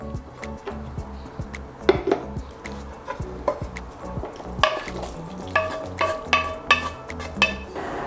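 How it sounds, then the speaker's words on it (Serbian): Softened onion and carrot scraped and tipped from a pan into a larger pot, with a series of clinks, knocks and metallic scrapes of a utensil against cookware, growing into rhythmic taps toward the end. "sada ću preručiti u veću šerpu gde ću nastaviti kuvanje."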